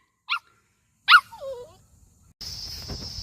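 A big Laren dog gives two short sharp barks at a campsite west of Townsville, Queensland, followed by a whining whimper, then steady outdoor hiss and rustle.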